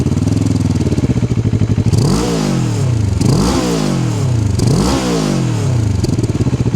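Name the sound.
Moto Morini Calibro Bagger single-sided exhaust engine revving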